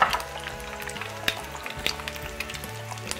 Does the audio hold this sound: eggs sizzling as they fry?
yes